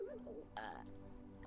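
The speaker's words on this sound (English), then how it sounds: "he burped" A short, fairly loud burp bursts out once amid a relaxed background, following a bit of quiet talk.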